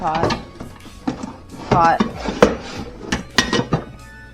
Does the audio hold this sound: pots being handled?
yes